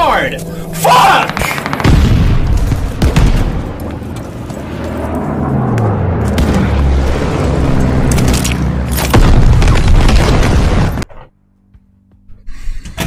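Mortar killstreak explosions in the Warzone video game boom and rumble loudly and continuously for about eleven seconds amid gunfire and chaotic game noise, with a person talking over it before it cuts to near silence.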